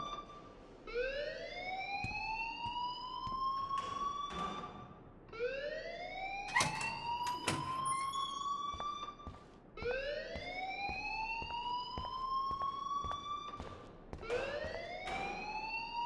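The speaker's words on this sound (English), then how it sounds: "please turn off that alarm since that's your job" A fire alarm rings in the Life is Strange video game, a loud electronic siren sweeping upward in repeated rising whoops, with a few brief clanks in the middle, continuing steadily throughout.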